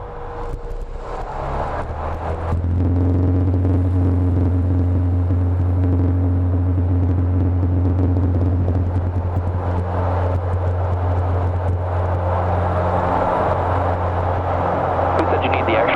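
Steady loud drone of a Husky light aircraft's engine and propeller rising to full power for a short STOL takeoff, a strong low hum holding throughout under constant wind-like noise.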